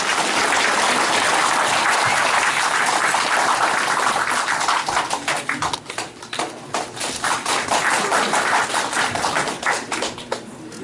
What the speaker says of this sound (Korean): 큰 박수로 맞이해 주시면 감사하겠습니다.